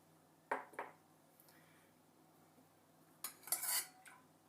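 A spoon clinks and scrapes against a bowl while beating a simple dessert batter of oil, vanilla, baking powder and milk, in two short bursts separated by a quiet pause.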